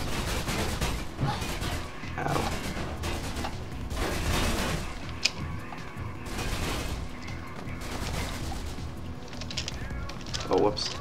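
Enemy gunfire in Mirror's Edge crackles in dense, continuous bursts with sharp reports scattered throughout, while a player talks over the shooting.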